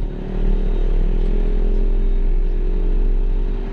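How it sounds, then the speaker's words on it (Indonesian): Engine of a new truck running smoothly, a steady, even low idle hum with faint mechanical clatter, close and continuous. "Lihat bro, halus bener suara mesinnya anjay."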